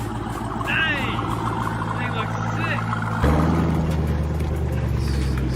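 A 1000HP Jeep Trackhawk idling nearby, a deep steady engine rumble that steps up lower and louder partway through, with people talking over it throughout.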